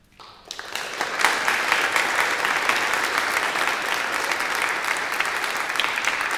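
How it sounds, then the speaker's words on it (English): A cathedral congregation breaks into sustained applause that swells quickly after a quiet start and holds as a dense, even wash of clapping in a reverberant space. "if we could give Jonty one more round of applause"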